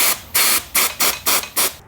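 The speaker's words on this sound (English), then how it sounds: "I'm going to spray that out with brake clean." Aerosol brake cleaner sprayed into a bike clutch cap on an R&Duro clutch, five sharp hissing bursts in a steady rhythm with brief pauses between them, loud and close, with no talk.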